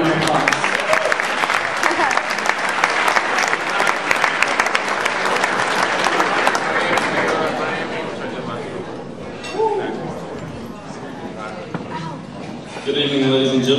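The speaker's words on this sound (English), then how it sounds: "So give Donnie a good round of applause." Audience applause for a guest at an evening charity event with master chefs, dense and sustained for about eight seconds, then thinning into scattered claps, crowd chatter and clinking dishes, with a voice beginning to speak near the end.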